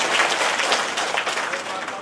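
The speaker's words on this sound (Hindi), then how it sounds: "एक बार जोरदार तालियां। तालियों में कंजूसी ना करिए" An audience applauds at a Shrimad Bhagwat Katha in Dehradun, many hands clapping in a loud, dense, sustained roar that fills the whole stretch without pause.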